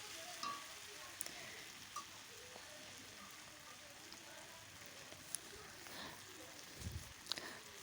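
Masala and tomato sautéing in a pan give off a faint, steady sizzle with occasional stirring scrapes and taps, quiet and close.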